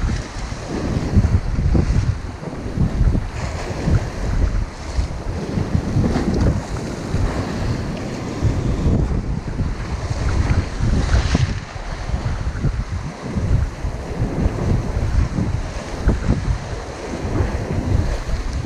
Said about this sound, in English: the wind is bloody hell, that is windy